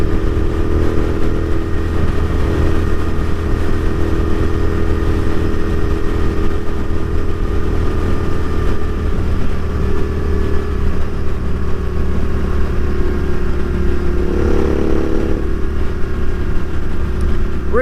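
A Royal Enfield Continental GT650 twin motorcycle is ridden at around 120 with a loud, steady engine drone and rushing wind that hold throughout, with a slight shift in pitch toward the end.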